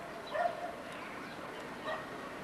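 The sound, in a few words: little dogs barking outside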